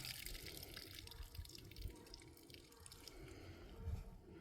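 Liquid fertilizer pours and splashes steadily at close range around plants in a high tunnel, a soft continuous trickle with faint dripping, no voices.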